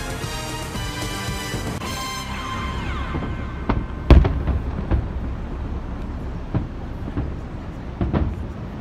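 A fireworks display heard from far off on the Fourth of July: scattered soft, muffled thumps and faint crackles, with no sharp loud bangs, over a quiet ambient background.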